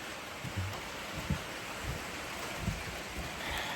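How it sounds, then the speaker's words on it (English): Rain falls outdoors as a storm moves in, a soft continuous hiss with a few faint low thumps scattered through it. "it started raining"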